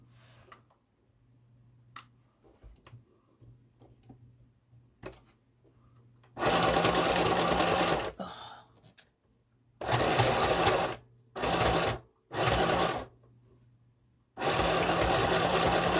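A sewing machine stitching on a small sewn mini project: four loud bursts of rapid mechanical running, the first about two seconds long, then shorter runs separated by pauses, with a faint hum and light ticks in the gaps, no speech.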